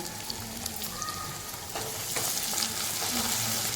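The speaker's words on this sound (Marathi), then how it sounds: "त्याच्यात आपण एक कापलेला टॅमॅटो त्यालाही व्यवस्थित आपण परतून घेऊया" Onion and chopped tomato fry and get tossed in a pan for a Konkani-style chana dal and jackfruit seed curry, producing a steady sizzle that grows slightly louder, with faint scraping of stirring.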